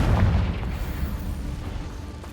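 A single Confringo fire spell explodes in Hogwarts Legacy with a heavy, close boom at the start that rolls off into a fading rumble over about two seconds, with no voices.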